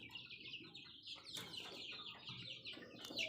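Desi Sonali chickens clucking at a small poultry farm in Kishanganj, a dense overlapping chorus of close, busy clucks and squawks with no talking.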